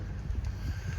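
Wind buffets a small microphone fitted with a furry dead-cat windshield on a hillside, producing a steady low rumble and muffled gusting with no voices.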